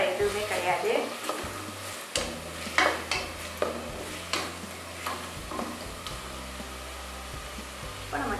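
Green beans stir-fried in a pan for vegetable white brinji, a steady sizzle with scraping stirs and a few clinks of the utensil against the pan, with low tonal hum underneath.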